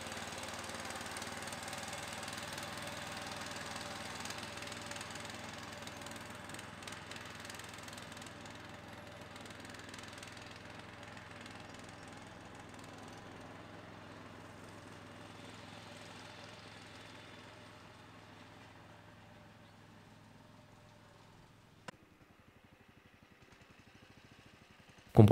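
A ProGARDEN 4x4 18 hp garden tractor climbs a steep packed-dirt slope, its engine chugging steadily at mid pitch, fading somewhat over time before cutting off, followed by a couple of sharp clicks near the end.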